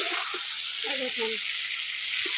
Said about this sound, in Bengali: যে লাল লাল করে সবজি ভাজা হয়ে গেছে